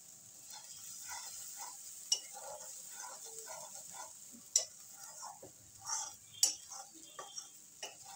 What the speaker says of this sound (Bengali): এখন কিন্তু নামানো যাবে না, আর কিছুক্ষণ ভেজে আমি নামাবো।